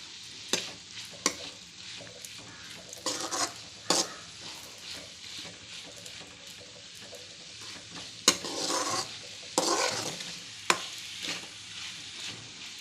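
Cauliflower fry sautéing in a pan with a soft continuous sizzle, punctuated by sharp clacks and scrapes of a spoon stirring against the metal, fairly close and quiet, no voices.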